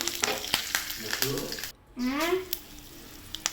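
Curry leaves, mustard seeds and cumin sizzle in hot oil as a tempering for chutney, a close crackling fry with sharp spits and pops, briefly dropping out before a steady sizzle resumes.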